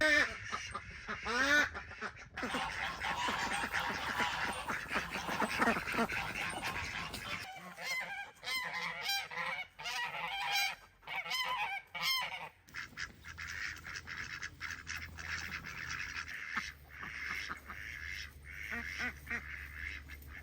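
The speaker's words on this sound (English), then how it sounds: "I think the geese want out. I just heard them squawking." A flock of geese honks and squawks loudly and repeatedly nearby, the harsh calls overlapping in noisy bursts throughout.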